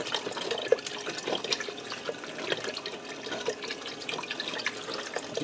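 Broth poured into an Instant Pot set on sauté to make beef stew, a steady splashing liquid stream with small drips and clinks, close and without talk.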